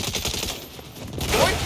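Dense, continuous gunfire in the video game Saints Row, a rapid rattling barrage that stays loud for under two seconds with no clear gaps.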